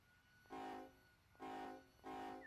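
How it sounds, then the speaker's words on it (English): Three sustained blasts of a distant train horn in the Run 8 Train Simulator video game, each a faint, chord-like tone about half a second long, evenly spaced over a quiet background. "I'm surprised we can hear the horn all the way from out there."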